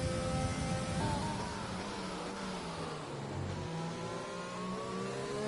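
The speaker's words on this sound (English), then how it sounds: "And that was Doug Arp's car on track." A Formula 1 car in a racing video game runs at the British Grand Prix circuit at Great Britain, its engine droning steadily with rising and falling pitch throughout, close and continuous with no talk.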